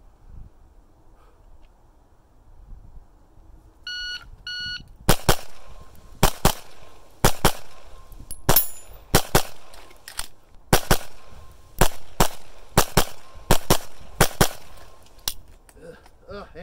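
Sharp, loud gunshots crack in irregular bursts at a shooting training session, a couple of electronic beeps preceding a long string of rapid shots fired in pairs and quick runs, each echoing briefly outdoors.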